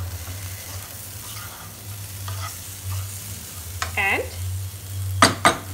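Broccoli and potato pieces with ground roasted peanuts are stirred in a pan, with scraping strokes and a few utensil clinks over a low steady sizzle and hum.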